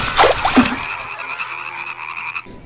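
Frogs croaking in a pond, a few loud close croaks at first followed by a quieter trilling chorus, with no speech.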